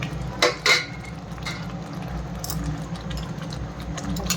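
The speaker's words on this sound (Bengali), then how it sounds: "এই পনিরটা এখন দিয়ে দিই, সব পনিরটা দিয়ে দিলাম" Paneer cubes go into a pan of palak paneer, with a couple of clattering metal utensil knocks early on, then softer scraping and stirring against the cookware over a low kitchen background.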